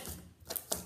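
Fingers poking Alien Snot, a very stretchy slime, give two soft, quick wet clicks close by, heard alone over quiet background.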